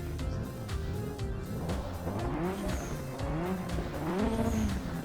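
Race car engine with a turbo and tires in the RaceRoom Racing Experience sim game. The engine note rises and falls steadily through gear changes, loud and continuous throughout, with no talk.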